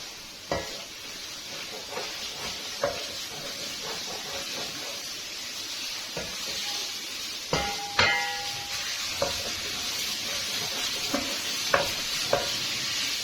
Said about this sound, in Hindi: कॉर्नफ्लोर डाल के इसको मैं अच्छे से पका लूँगी।